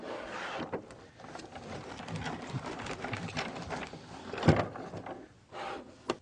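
An AccuQuilt GO fabric cutter rolls over a cutting die stacked with a layer of flannel and a cutting mat, giving a steady, soft grinding rumble with small clicks and creaks, close and fairly quiet, with no voices.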